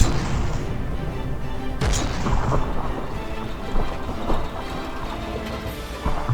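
Battleship guns in the From The Depths naval game fire shells in heavy rumbling booms, with one sharp blast and several duller thuds layered over a continuous low roar of battle.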